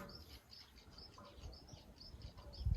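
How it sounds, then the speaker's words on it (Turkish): Faint, high chirps from small birds repeat at a steady pace over a soft early-morning outdoor hush at a fishing spot, distant and quiet. "Kuş sesleri."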